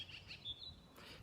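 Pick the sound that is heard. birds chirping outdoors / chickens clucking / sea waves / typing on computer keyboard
birds chirping outdoors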